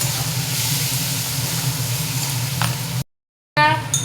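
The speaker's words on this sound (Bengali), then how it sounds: "এই মশলাটাকে ভালো করে ভেজে নেব।" A spice mix with ground cumin frying in a pan, a continuous close sizzle and hiss with faint stirring, cutting out briefly before a voice speaks at the end.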